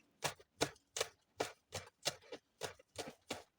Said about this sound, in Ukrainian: Дрібню зелену цибульку.